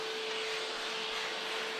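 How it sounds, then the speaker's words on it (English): A vacuum cleaner runs in a workshop while a long strip of wet, stretched quarter-inch vegetable-tanned leather is beveled, a steady, even whine with a constant tonal hum, heard alone and uninterrupted. "I have no idea if the audio is going to work out because of the vacuum cleaner"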